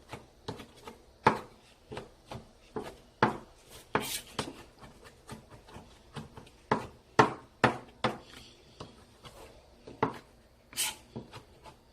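A kitchen knife chopping dry ingredients on a board for Korean meat patties with perilla leaves, a long series of sharp, close taps in an uneven rhythm with no talking.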